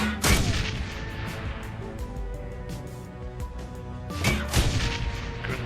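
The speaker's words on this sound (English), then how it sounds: "Grenade." Grenade explosion in the video game Shadowrun: Hong Kong, a heavy booming blast at the start and another burst near the end with rumbling, crackling tails between, loud and without speech.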